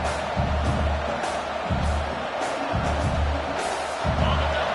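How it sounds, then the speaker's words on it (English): A stadium crowd roars at a league match just after the teams take the field, a loud sustained wash of cheering with rhythmic low thumps recurring about once a second, no speech on top. "this crowd is fired up. Listen to this noise here."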